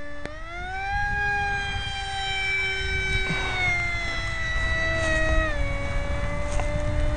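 Electric motor of a prototype F5E RC jet in flight, a loud sustained whine whose pitch rises and dips with short throttle bursts, heard alone.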